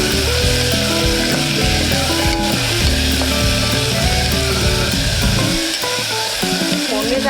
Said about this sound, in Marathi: टोमॅटो पण मस्त भाजून घेतला पाहिजे, आमटीला चव चांगली येते